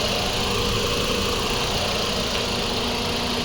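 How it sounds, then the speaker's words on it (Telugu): A 2021 Maruti Suzuki Swift Dzire ZXi+ AMT petrol engine idling, a steady, even low hum with a faint vibration, close and unbroken, with no talking. "సార్ ఇంజన్ సౌండ్ చూపిస్తాను సార్."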